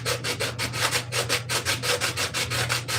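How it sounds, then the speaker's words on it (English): Someone hand-sands with 80 grit sandpaper, removing material in a steady back-and-forth rhythm of close, rasping strokes, about four strokes a second, with no voices. "80 grit sandpaper here, just whittling away as much material as I can."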